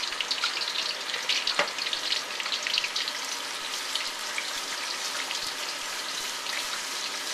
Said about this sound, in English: all I have to do is rinse them off in the hot water to get the oil off